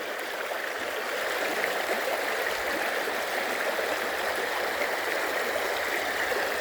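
A small stream trickles and burbles steadily, a constant close wash of running water with no other sounds.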